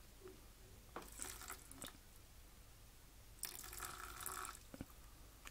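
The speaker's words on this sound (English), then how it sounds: "I'm also going to pour some of the water from the rice saucepan." Water poured from a rice saucepan into a pan of minced beef comes in two separate splashing bursts with a gurgling trickle, fairly faint against a quiet kitchen background, no talk.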